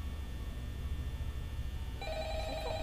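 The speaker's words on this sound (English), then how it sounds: "Oh, there we go, phone guy ringing." In the Five Nights at Freddy's video game a telephone starts ringing partway through, a clear electronic ring over a steady low hum.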